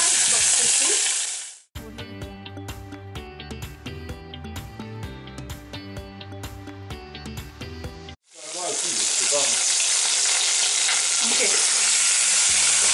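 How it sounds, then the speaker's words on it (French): Chicken wing pieces go into hot oil in a saucepan and sizzle loudly and close by. A spell of other sound briefly breaks the steady crackling hiss before it returns, and one short spoken word is heard. "l'huile étant chaude, on va placer les morceaux."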